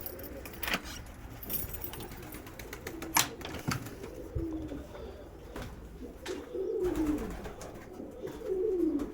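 Domestic pigeons coo repeatedly inside a small loft, their soft rolling calls recurring close by amid occasional clicks and rustling, with no talking.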